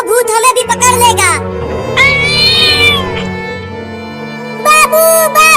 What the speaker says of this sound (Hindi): वो देख, वहाँ पर एक बड़ी बिल्ली चिल्ला रही है